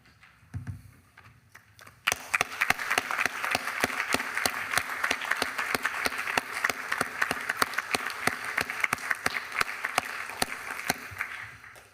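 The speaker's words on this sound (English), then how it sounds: "Please join me in a round of applause." Sustained applause fills a city council chamber during an awards presentation, steady dense clapping from a crowd that starts abruptly after a brief pause and runs unbroken to the end.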